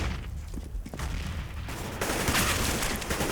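Mac-10 submachine gun fire in Counter-Strike: Global Offensive at a Cloud9 vs. EnVyUS match on Cobblestone, a dense rattle of rapid shots under other gunfire, steady and fairly close throughout.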